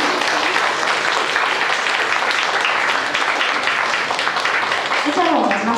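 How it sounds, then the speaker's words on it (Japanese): Audience applause fills a hall after a student Indian dance recital, a dense, steady clatter of many hands throughout, with a voice rising briefly near the end. "美しく舞った出演者の皆さんに今一度盛大な拍手をよろしくお願いします。"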